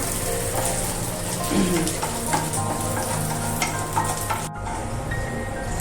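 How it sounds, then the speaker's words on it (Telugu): Flax seeds roast in a hot pan with a steady dense crackling sizzle and stirring scrapes throughout, close and fairly loud, with no talk heard. "ఇదిగో ఈ అవిసి గింజలు వేస్తాము"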